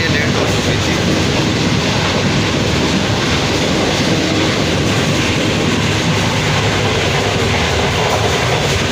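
A 7UP Tezgam passenger train runs fast on the rails at night, giving a loud, steady rumble of wheels and wagons with a continuous rolling roar and no pauses.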